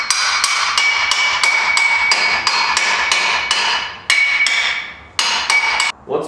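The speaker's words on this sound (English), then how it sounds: "you might have to hammer them in with a hammer" Sharp metallic hammer strikes drive tabs onto a Club Car DS golf cart axle spindle during a lift kit install, a fast, evenly spaced series of about twenty ringing blows with short pauses, close and loud with no talk.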